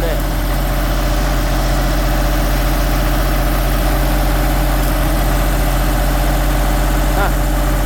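A Miller Big Blue 500X welding machine, an older non-digital model, idles steadily at a bridge-building site in the Philippines, a constant low engine drone with harmonic hum running throughout.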